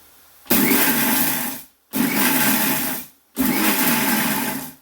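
A mixer grinder blending dried prawn sambal whirs loudly in three short pulses of about a second and a half each, separated by brief pauses, with no talking.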